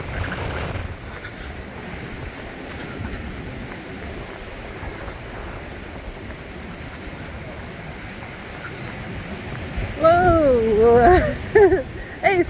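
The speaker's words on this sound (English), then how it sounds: "Look at the size of the waves." Large rough ocean waves surge and wash continuously under gusty wind buffeting the microphone, swelling louder toward the end as an excited voice exclaims over the surf.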